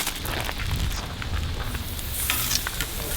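Garlic toast on an open campfire gives a steady, close crackle and sizzle of fire and cooking, continuous and dense throughout with no speech over it.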